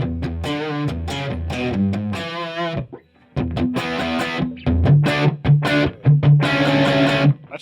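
Electric guitar played through a Line 6 Helix Stadium XL with Echoplex delay, big reverb and a Phase 90-style phaser, loud sustained chords and melodic lines swirling with effects, a brief gap near the middle before the chords return.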